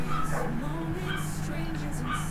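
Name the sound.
dogs barking, pinschers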